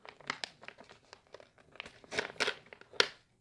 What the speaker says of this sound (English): I'm about to rip it open.